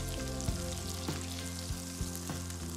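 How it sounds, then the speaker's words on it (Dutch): Cordon bleu sizzles steadily in hot oil in a pan, a dense crackling frying sound with a low hum and a few soft clinks of utensils. "Een pan met olie goed warm laten worden en dan laten we die gewoon mooi bruinen aan beide kanten."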